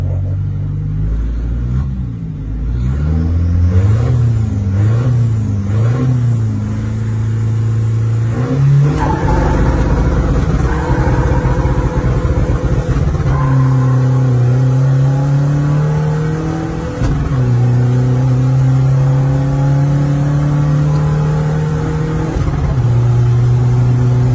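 A 1.9-litre pickup truck accelerates hard, its engine pitch climbing in repeated surges and gear changes, loud and close throughout, with no voices.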